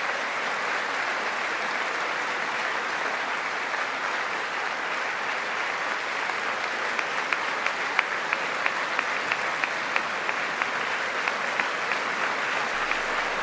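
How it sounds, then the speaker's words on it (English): An audience at the 2020 State of the Union address gives Juan Guaido a sustained, dense ovation. The loud, steady wash of many hands clapping holds throughout, with a few sharper individual claps standing out toward the end. "Clap for that man, Juan Guaido"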